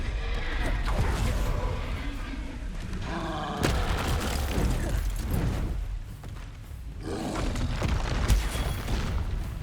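Bombarda and Confringo spells exploding in Hogwarts Legacy combat, a series of heavy booms and crashes with sharp bursts around the middle, loud and dense, with a brief lull before more impacts.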